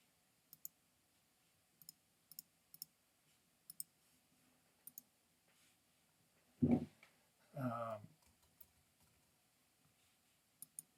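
Sparse keyboard clicks tap out in small clusters across a quiet room, with a couple of duller thumps partway through.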